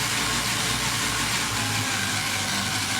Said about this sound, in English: I am going to reduce input signal to motor